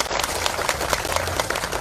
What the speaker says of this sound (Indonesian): kita berikan tepuk tangan sebagai tanda terima kasih.